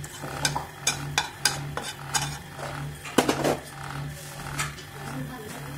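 Dried red chili and bay leaf in hot oil in a kadai for a Bombay duck curry, a low sizzle beneath a series of sharp spatula clanks against the pan, close by.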